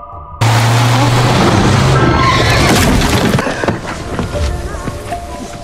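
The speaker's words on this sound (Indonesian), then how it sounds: "tiba-tiba sebuah mobil van putih melaju kencang ke arahnya dan menabraknya" In a film scene, a white van races in and strikes a cyclist on a road: a sudden loud engine roar and rushing impact with clattering, crashing debris, then a rougher settling rumble.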